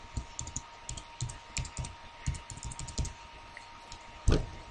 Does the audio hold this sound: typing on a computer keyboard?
yes